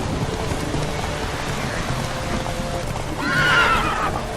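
Roach the horse gives a short whinny near the end, heard over a steady wash of rain and ambient noise in the video game The Witcher 3.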